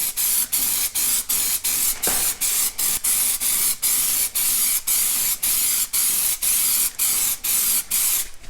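An aerosol can of HyperDip coating sprays onto a car part in steady, evenly spaced bursts, about two per second, each a loud close hiss with brief breaks between, and no talk.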